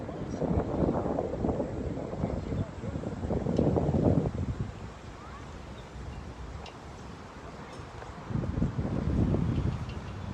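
Gusty wind rumbles across an outdoor lawn bowls green at a mixed fours final, low buffeting surges rising and falling in waves, strongest near the start, middle and end, with no talk.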